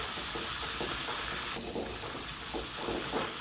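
Okra (bhindi) fries and is stirred in a pan after garam masala powder is added. A soft, continuous sizzle runs throughout with light scraping from the stirring, fairly quiet and close, with no talking.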